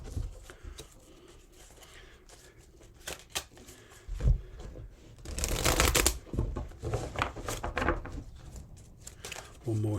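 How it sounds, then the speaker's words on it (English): Tarot cards being shuffled by hand during a reading, a steady papery riffle and slide with a louder burst of rapid shuffling near the middle, close up, while a person talks over it. "just shuffling the cards here while I talk to you"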